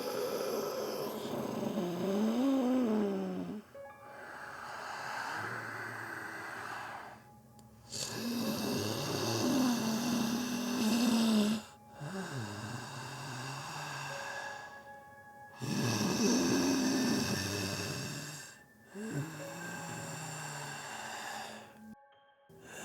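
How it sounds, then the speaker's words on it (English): A creature draws slow, rattling breaths thick with mucus, each long wet inhale and exhale rasping and snore-like, repeating in several drawn-out cycles separated by brief pauses, close and fairly quiet with no talking. "It drew a breath. A slow, rattling inhale,"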